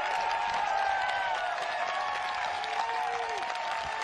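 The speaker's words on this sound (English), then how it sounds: "You hear the roar of the crowd." Spectators at the 2023 U.S. Women's Disc Golf Championship applaud and cheer in a steady, fairly distant wash of clapping and crowd roar, with a commentator talking lightly over it.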